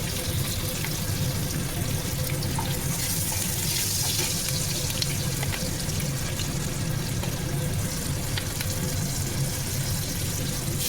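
Green chillies and nigella seeds sizzle and crackle in hot frying oil as Bengali kochur loti with prawns is cooked, a steady dense hiss close by that runs unbroken, with no talk.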